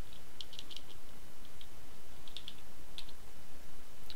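A computer keyboard clicks in short irregular runs of light keystrokes while a command is entered, faint and close over a steady hiss of background noise, with no talking.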